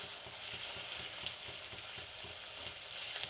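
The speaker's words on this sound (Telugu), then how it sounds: "ఇప్పుడు ఇందులో కొద్దిగా ఆయిల్ వేసుకుందాము. ఇప్పుడు ఎర్రగడ్డలు వేసుకుందాం." Sliced onions frying in hot oil in a pan for an egg curry, giving a dense, steady sizzle with faint crackles and soft stirring scrapes, close up and without talk.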